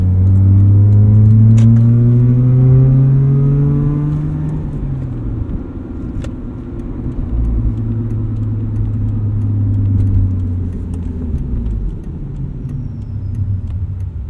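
A 2009 Mazda RX-8 sports car drives along with a loud, close engine drone, rising through the revs, shifting down, then settling into steady cruising before climbing again.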